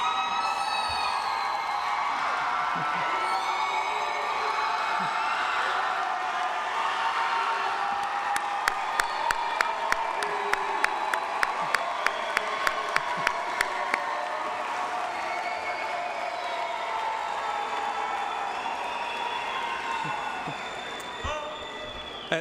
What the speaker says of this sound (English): You can cheer. This is a happy day.